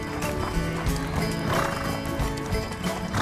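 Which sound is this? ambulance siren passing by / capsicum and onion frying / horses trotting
horses trotting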